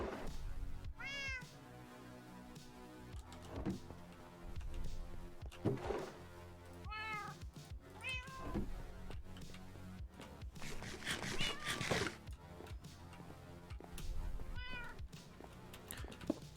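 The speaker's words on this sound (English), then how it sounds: "Wow, cat." A cat meows repeatedly in the Minecraft video game while a man plays, four separate meows spread out across a steady background of game sounds, with occasional soft thunks.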